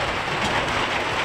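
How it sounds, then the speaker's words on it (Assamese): Heavy rain pours down in a dense, continuous broadband roar that stays loud and even throughout, with no voices. "বহুত ডাঙৰকৈ বৰষুণ দিলে"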